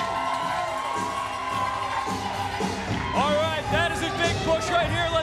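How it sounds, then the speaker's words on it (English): A crowd cheers and whoops at a bobsled push competition while an athlete drives the sled off the start, lively shouts rising over a continuous murmur, with a voice talking over it. "Hopefully the crowd's making lots of noise over there to help this athlete get the sled moving."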